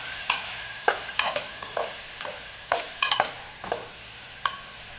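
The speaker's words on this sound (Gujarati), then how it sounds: "હવે જે આપણે બટેટા લીધેલા છે તે એડ કરી દઈશું. મિક્સ કરી લઈશું." Cluster beans and potatoes being stirred in a pressure cooker for a spicy Kathiawadi curry: close, irregular scraping strokes of a spoon against the pot, with faint sizzling between them and no talking.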